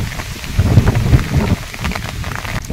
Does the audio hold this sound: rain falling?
yes